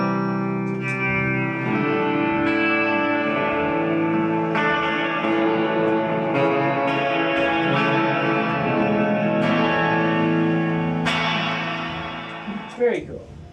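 A clean electric guitar through a reverb pedal rings out sustained chords washed in spacious reverb, notes blurring and trailing into each other as the phrase slowly fades.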